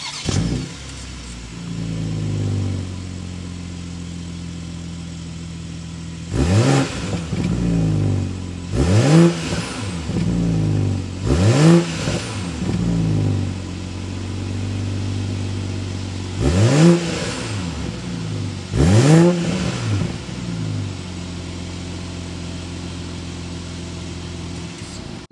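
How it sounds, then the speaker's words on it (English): A 2022 BMW X7 SUV engine starts and settles into a steady idle, then its exhaust note rises in several loud, sharp revs spaced across the stretch, each falling back to idle. "start it up, so we can hear that exhaust note"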